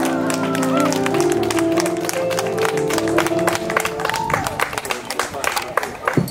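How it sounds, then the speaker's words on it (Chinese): Crowd at an outdoor lawn concert claps loudly and steadily, dense applause with scattered sharper claps and some cheering, as music and a voice carry on beneath it. "掌声要够大声，他才出来讲话啊。"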